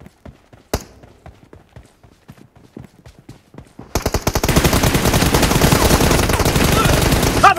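Battle royale game gunfire: sparse single shots and short bursts at first, then a sustained rapid machine-gun stream that dominates loudly to the end.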